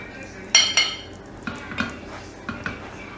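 A metal spoon scraping and tapping against a pot and plate while white rice is served, a few light clinks and scrapes in quick succession, close by and fairly quiet.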